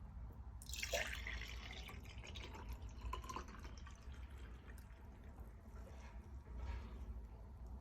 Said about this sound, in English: Just gonna pour this into a standard glass.